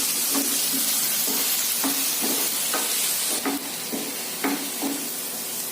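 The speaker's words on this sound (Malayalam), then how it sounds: "ഇതൊന്ന് വഴറ്റി നമുക്ക് ഇതൊന്ന് വേവിക്കാം" Vegetables sautéing with a little salt in a hot pan for a rice-flake breakfast dish: a constant sizzle and hiss, broken by repeated scraping knocks of a spoon stirring at an even rhythm.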